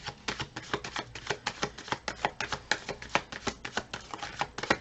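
Rapid, rhythmic riffling of tarot cards being shuffled, crisp repeated flutters close up, continuing steadily for several seconds without speech.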